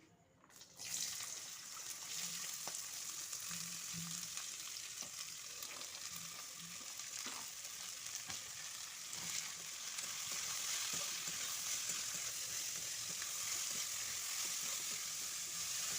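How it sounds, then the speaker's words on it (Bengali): Vegetables sizzle and fry in hot refined oil in a pan over medium heat, a steady bright crackling hiss throughout with occasional faint stirring clatter, no voices. "এবার মিডিয়াম আঁচে কিছুক্ষণ ভেজে নিচ্ছি"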